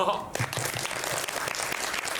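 A theater audience at a film screening and talk event claps in a dense, continuous burst of applause that fills the room, with no voices standing out.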